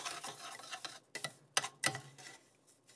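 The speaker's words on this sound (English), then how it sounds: "I want to make sure that I stir it so that the butter itself is going to coat the" Couscous is stirred with butter in a pot, the spoon giving sparse, quiet taps and short scrapes against the metal at an irregular rhythm.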